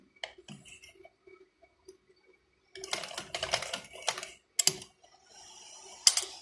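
A sewing machine stitches a decorative trouser-cuff hem. Short clattering bursts start and stop, with a denser run of rapid mechanical ticking in the middle, close and moderately loud between quiet pauses.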